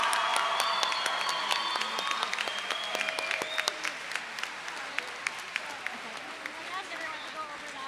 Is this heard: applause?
yes